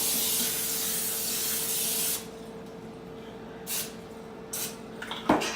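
Pam cooking spray hisses in a continuous two-second burst onto a 2-quart baking dish, then short follow-up spritzes and a light clatter close by.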